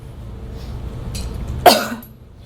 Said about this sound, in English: So I've held my breath as I swallowed, and then I coughed to remove anything from my larynx.